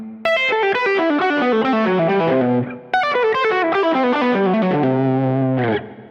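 Electric guitar through distortion and chorus effects playing a fast descending four-note pattern across the strings, heard twice in a row, loud and close with a brief pause between the runs and no talking.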